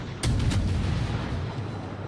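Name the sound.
5-inch naval guns firing in a warship video game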